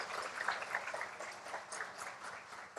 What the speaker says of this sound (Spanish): Merecido el aplauso de este auditorio al maestro Luna